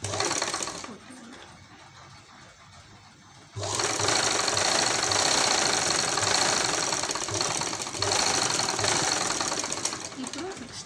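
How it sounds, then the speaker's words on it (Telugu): Sewing machine stitching a blouse along a fold, a steady rapid mechanical whir close by, quieter at first and then running loud and continuous after a pause, with someone talking over it. "మళ్ళీ ఫోల్డింగ్ దగ్గర నుంచి ఒక కుట్టుని కుట్టాలి"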